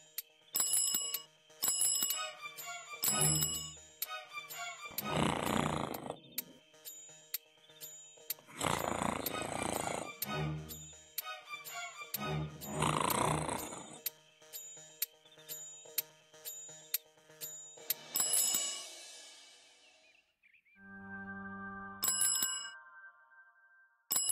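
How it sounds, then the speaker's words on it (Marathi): A bell rings in quick repeated strikes, pausing between bursts while a voice speaks over a quiet background. "रातच्यापासून घंटी कशाला वाजवताय हो?"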